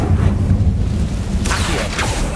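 The Confringo blasting spell goes off in a wizarding video game set in a decaying, long-abandoned place, giving a continuous deep rumble with a couple of sharp crackling bursts in the second half.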